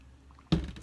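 A drink slurped up close, a single short wet slurp bursting out after a near-silent lead-in.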